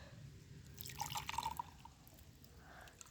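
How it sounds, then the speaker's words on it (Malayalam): Hot water is poured into a glass, giving a brief run of faint, bright drips and trickles in a quiet room. "ഈ ഗ്ലാസ്സിലേക്ക് നമുക്ക് ചൂടുവെള്ളം ഒഴിക്കാം"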